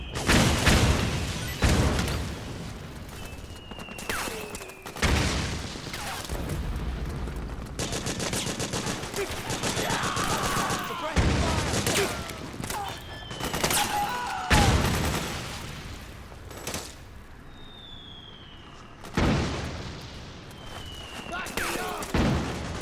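Gunfire in the video game Metal Gear Solid 4: Guns of the Patriots on PS3 comes in loud, repeated bursts and booms across the battle, with voices shouting between the volleys.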